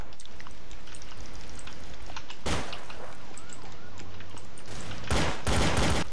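Gunfire in the Garry's Mod game mode Trouble in Terrorist Town: a few sharp broadband bursts, one near the middle and a louder cluster at the end, over a steady low game ambience.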